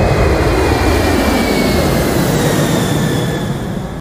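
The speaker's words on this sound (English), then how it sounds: "And we have Stratolaunch's rock, nice takeoff, carrying Talon-A vehicle." The Stratolaunch Roc carrier aircraft takes off carrying the Talon-A vehicle, a loud, steady roar of jet engines that fills the clip and drops away sharply at the very end.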